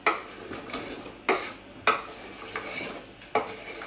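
A spoon stirs meat with pepper and zucchini in a pot, giving a soft sizzle broken by four or five distinct scraping clacks against the metal, close and at an uneven pace.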